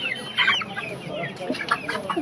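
Several chickens cluck close by in short, irregular bursts, with softer clucks scattered between them.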